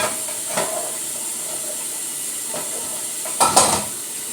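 Dumplings frying in a pan give a steady close hiss and sizzle, with a few louder crackling bursts rising out of the constant frying noise.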